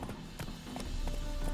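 Horse hooves clop on the ground in The Witcher 3: Heart of Stone, a quick run of evenly spaced hoofbeats at moderate volume, with no voices.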